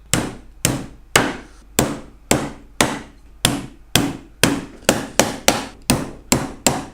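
Nails are hammered into a wooden National beehive brood body, about fourteen sharp, ringing blows that start evenly spaced and then come faster, loud and close, with each strike decaying before the next and no talking.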